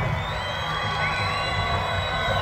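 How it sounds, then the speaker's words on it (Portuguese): A stadium crowd cheers and shouts at a stadium lighting inauguration, a dense, steady roar with children's voices mixed in and no clear breaks. "vamos dar uma salva de palmas aí, minha gente! Vamos aplaudir"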